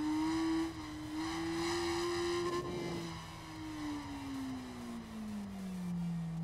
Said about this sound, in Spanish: Buen sonido que tiene esta moto también, eh. Muy buen sonido.